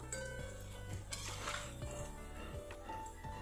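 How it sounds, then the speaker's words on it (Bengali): A metal utensil clinks and scrapes against a pan or bowl while fried pakoras are lifted out of hot oil and drained, with soft repeated taps and faint sizzling, quiet and close. "ভালো করে তেল ঝরিয়ে ঝরিয়ে তুলে নিচ্ছি।"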